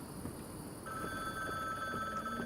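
A telephone rings in the video game Bookwalker: Thief of Tales, a steady electronic ringing tone that begins partway through and sustains, moderately loud over a quiet backdrop.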